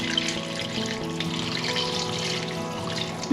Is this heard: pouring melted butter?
yes